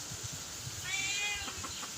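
A cat stuck up in a tree gives a single faint, drawn-out meow, heard over steady outdoor background noise.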